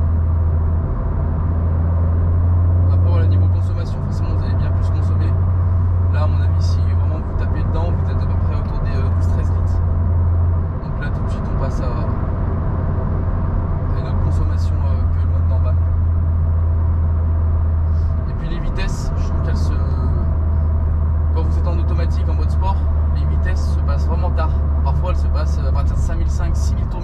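A Renault Clio 4 RS engine and exhaust hum with a steady low drone from inside the car, while scattered crackles and pops sit under nearly continuous talking.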